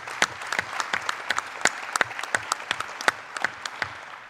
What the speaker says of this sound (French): on peut les applaudir si vous voulez